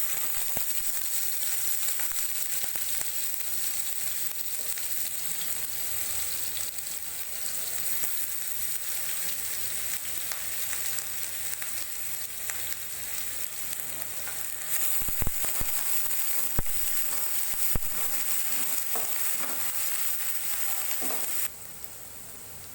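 Onion paste sizzles and crackles steadily in hot oil, a bright continuous frying hiss with occasional sharper pops and stirring, close and unbroken until it cuts off abruptly near the end.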